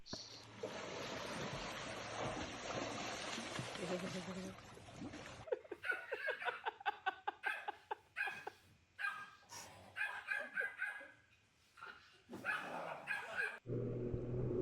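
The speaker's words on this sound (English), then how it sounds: "They taught their pet dog how to do a trick." A pet dog barks in a quick run of sharp, repeated yaps while performing a trick, close and clear, with laughter and talking mixed in.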